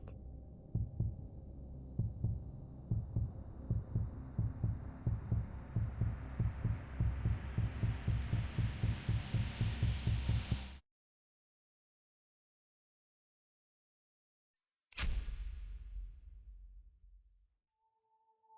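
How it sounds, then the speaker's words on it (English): Steady rhythmic heartbeat throbs in the video game Reverse 1999, low regular pulses for about ten seconds, then silence before a sudden loud hit that fades away. "Don't forget my heartbeat."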